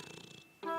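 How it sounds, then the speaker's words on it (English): A cartoon cat purrs in a soft, rapid rumble, then gives a short, clear meow at the end. "Mummy and Caillou heard a quiet meow."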